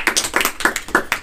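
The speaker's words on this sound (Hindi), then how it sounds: "यीशु के लिए ताली लगा दो एक बार" Congregation clapping in rhythm at a Sunday church service, a lively run of sharp, evenly spaced claps from a close group, with no talking.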